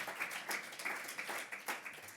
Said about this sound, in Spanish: Aplauso para Carlos